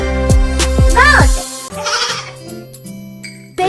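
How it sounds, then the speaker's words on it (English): A goat bleats several times in quick, close succession, rising into a long wavering cry, followed by softer tonal sounds, all loud and clear in the foreground. "G for goat."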